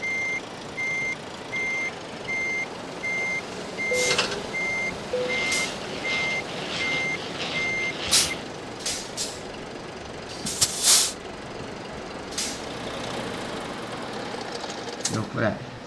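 Truck in Euro Truck Simulator 2 backing up to park, steady reversing beeps repeating at an even pace over low engine rumble, followed by sharp air-brake hisses and releases; someone talks quietly over it.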